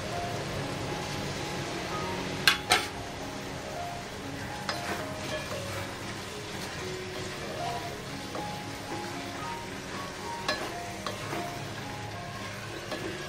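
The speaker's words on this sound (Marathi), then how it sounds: "छानपैकी असं हलवून घ्यायचं, म्हणजे सगळे मसाले असे एकजीव होतील आणि या भाज्यांमध्ये छान मिक्स होतील" Cauliflower and peas fry with spices in a pan, a soft continuous sizzle with occasional scrapes and clicks of stirring, faint and close.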